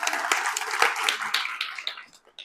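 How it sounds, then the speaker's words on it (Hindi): A group of people claps in applause, a dense burst of hand claps that fades toward the end, mostly alone with little talk. "तालियां बजाओ भाई मेरे लिए।"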